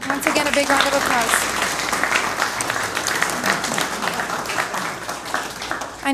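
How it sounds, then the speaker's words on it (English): Audience at a school district board meeting claps in a sustained round of applause, steady and fairly loud throughout, with voices talking underneath. "Once again, a big round of applause."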